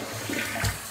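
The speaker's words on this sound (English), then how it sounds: "So you flush the toilet and it's backing up" A household toilet flushes in a bathroom where the drain is backing up into the shower, a steady rushing gurgle of water, close and continuous.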